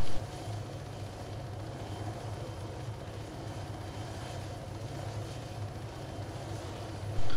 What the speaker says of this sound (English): if I can control this chopper, which I'm not very good at